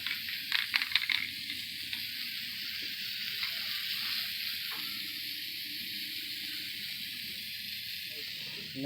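Plasti Dip rubber coating sprayed from an aerosol can onto a cosplay chest piece: a steady, close hiss that runs almost without a break, with a few short bursts and clicks near the start.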